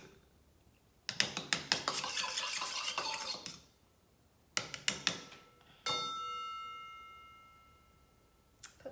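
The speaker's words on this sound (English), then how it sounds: "give it another good stir" A small baby spoon stirs a sweet, tart, tangy sauce in a dish, with two bursts of scraping and clinking. The spoon then strikes the dish once, leaving a clear ringing tone that fades slowly. No talking.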